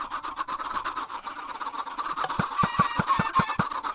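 A crowd of 141 Minecraft chickens packed into a chicken machine clucks and squawks in a busy chatter, joined partway through by a quick run of sharp rhythmic clicks.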